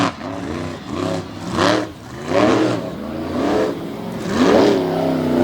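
Two monster truck engines rev hard at the start of a championship race at Speedway 95 in Bangor, Maine, in 2021, loud and close with repeated rising and falling bursts of throttle and no talk.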